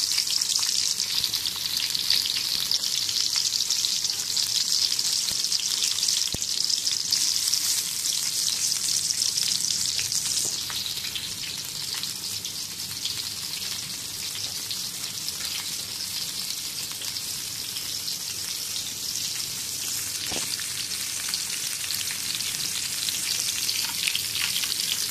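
Onions fry in hot oil in a kadai while fish curry is prepared, giving a loud, continuous crackling sizzle with fine spattering pops and occasional stirring, steady throughout and without any voices.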